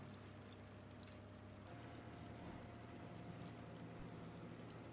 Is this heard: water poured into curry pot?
yes